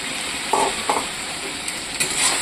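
Spices and potatoes frying and being stirred in a pan: a steady close sizzle with a few louder scraping stir strokes near the start and end, no talk.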